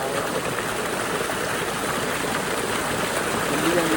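Irrigation water runs steadily into a paddy field being readied for rice, a broad continuous rushing wash that stays even and fairly loud throughout, with a faint voice briefly audible near the end.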